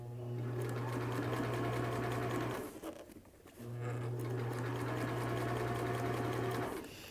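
A sewing machine stitches a CourageCap in two long steady runs of rapid needle chatter with a strong motor hum, separated by a short pause, close and loud with no talk.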